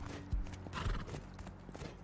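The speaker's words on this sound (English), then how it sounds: "You want to get a horse." A horse in the survival game Rust neighs and whinnies over a couple of quick clip-clop hoof steps, close and fairly loud against a low background hum.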